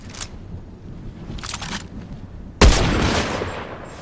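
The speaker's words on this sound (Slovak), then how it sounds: "tam ďalší na mňa strieľa" Gunfire in the video game Fortnite: faint distant shots crackle twice, then a sudden loud burst erupts and rattles on for over a second, with no talking.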